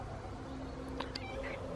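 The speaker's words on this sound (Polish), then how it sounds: "ty kot też jesteś" A cat gives a couple of short, faint meows on an outdoor terrace, heard under steady background noise.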